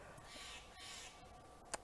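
A crow gives a few faint, short caws in the distance against a quiet background.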